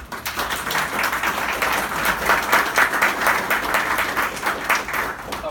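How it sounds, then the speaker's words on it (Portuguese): An audience at a DevOps-in-PHP conference talk applauds at the end, a steady stretch of many hands clapping that holds at an even level throughout. "Palmas."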